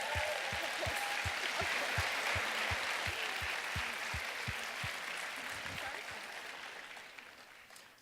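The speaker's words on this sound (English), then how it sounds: "let's have a big round of applause for the" An audience applauds students at the close of a final presentation show, full clapping that slowly fades, with steady low thumps pulsing beneath it and the crowd thinning out by the end.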